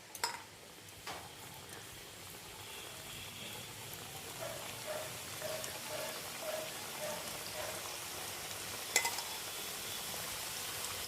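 Mini kachori stuffed with chana dal deep-fry in hot oil at medium heat, giving a soft, steady crackle and fizz with scattered pops and one sharper clatter near the end.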